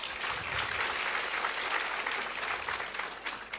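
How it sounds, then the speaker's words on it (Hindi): An audience at a Hindu religious discourse applauds, a fairly faint, even wash of many hands clapping that continues steadily and thins slightly toward the end. "सवाल के लिए तालियां बजाइए।"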